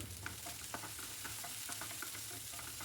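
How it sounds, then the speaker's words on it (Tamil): Onions with curry leaves and dried chillies sauté in a pan, giving a soft, continuous sizzle with light stirring scrapes and clicks close by and no voices. "எல்லாமே நல்லா வதக்கி விட்டுருங்க."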